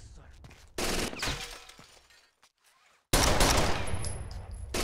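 Gunfire in the video game Rainbow Six Vegas 2, with loud, dense bursts of automatic fire and sharp cracks broken by a brief near-silent gap. Faint game voices mix in.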